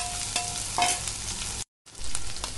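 Chopped garlic frying in hot mustard oil with a little ajwain, a steady close sizzle with brief stirring scrapes and a short gap near the end.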